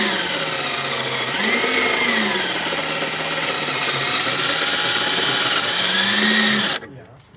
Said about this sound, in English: Just Drilling. drilling like a villain.